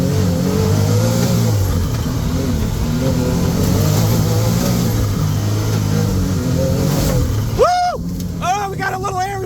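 A Can-Am Maverick R X off-road vehicle drives a sandy forest trail in Ocala National Forest. Its engine hums loudly and steadily, then eases off as it slows for a turn, with a brief whine near the end.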